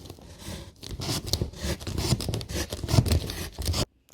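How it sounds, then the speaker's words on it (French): A utility knife with its blade extended saws through board to cut out an arch for a single-bed lounge makeover, a steady close rasping scrape running several seconds before stopping abruptly. "on n'a plus qu'à découper avec un cutter"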